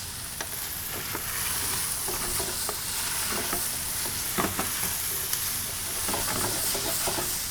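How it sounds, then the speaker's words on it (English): Chipotles and adobo sauce are stirred into a hot pan, with a steady close sizzle and hiss broken by scattered scraping clicks of the stirring utensil throughout. "So we're gonna work those chipotles and adobo into this."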